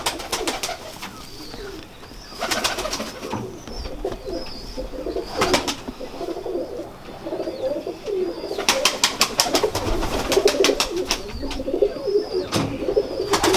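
A Sialkoti pigeon gives repeated throaty coos near at hand, broken by bursts of wing flapping and rustling, with steady background noise and no clear talk.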